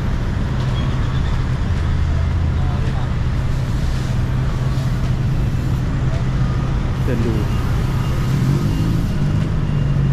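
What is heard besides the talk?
traffic on Sukhumvit Road in Bangkok at rush hour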